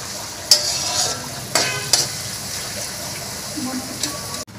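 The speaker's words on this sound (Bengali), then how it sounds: "এভাবে ভেজে নেব।" Onions, about one and a half cups, sizzle steadily in a pan for a chicken biryani, with several sharp scraping stirs of a utensil breaking through the frying hiss.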